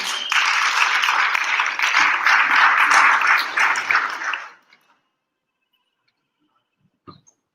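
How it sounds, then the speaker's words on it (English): An audience at a Bharatanatyam arangetram applauds a speaker with loud, dense clapping for about four seconds before it fades abruptly to silence, followed by one faint knock. "Give her a round of applause"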